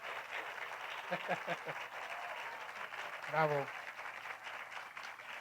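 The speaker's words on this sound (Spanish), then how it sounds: "Gran aplauso, por favor." Applause fills a hall at a tribute event, a steady faint wash of clapping from the audience heard from a distance, while a voice calls out briefly over it.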